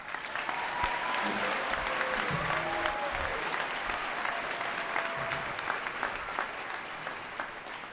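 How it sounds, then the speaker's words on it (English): A crowd at a spring graduation ceremony applauds steadily for several seconds, a dense wash of clapping with a few faint voices and whistles mixed in. "Please give them a round of applause."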